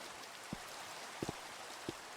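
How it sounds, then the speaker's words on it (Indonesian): Sparse raindrops fall at night, a few distinct taps against a soft, quiet background hiss, with no voices. "Mana hujan lagi anjir."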